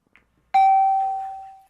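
A quiz buzzer bell rung by pressing a button gives one clear electronic ding after a short silence and a faint tap, then rings on and slowly fades, loud and alone.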